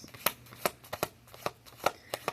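Tarot cards being shuffled by hand, giving sharp, crisp riffling bursts that repeat in a loose rhythm about twice per second, close and clear, with no voice.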